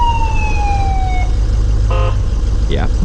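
Siren of a 2007 Ford E450 6.0 diesel ambulance, a loud close wail sweeping down, then a brief electronic chirp and a short rising whoop over a low engine rumble.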